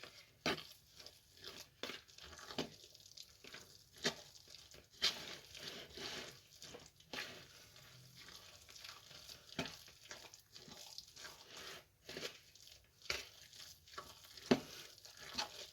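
Lentil cutlet mixture with fried chopped onion being stirred in a bowl, soft intermittent scraping and squelching strokes, quiet and close, no voices.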